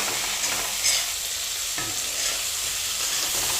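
Salt, coriander powder, turmeric and red chilli powder frying in a pan for an Assamese capsicum, tomato and egg curry, stirred with steady scraping over a continuous close sizzle, with no talking.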